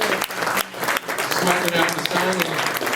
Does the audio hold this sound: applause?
yes